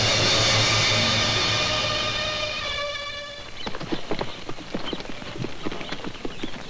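Horses trotting with hooves clip-clopping in a steady rhythmic patter, loud and close in the second half after a fading sustained musical tone, with no talk.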